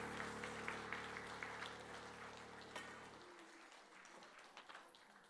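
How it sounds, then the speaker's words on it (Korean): Faint, continuous clapping from a church congregation welcoming a district group at an evangelism rally service, a soft even patter that carries on after a held music tone drops out. "박수 소리가 끊어지지 않게 계속 더 열정적으로 박수해 주시길 바랍니다"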